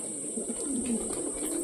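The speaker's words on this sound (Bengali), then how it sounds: "তো দেখতে পাচ্ছি আমাদের অর্ধেকের বেশি পায়রা ওপরে রয়েছে, কিছু কিছু পায়রা নিচে রয়েছে শুধুমাত্র" Pet pigeons coo in a loft, a soft, throaty, rolling coo close by. The coo is steady over a brief stretch with a constant high background hiss.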